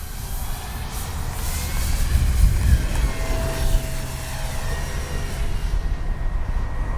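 An Avios Super Tucano RC model airplane takes off with a loud, steady electric motor whine and propeller buzz, plus a rush of wind noise, rising slightly in pitch before fading as it climbs away.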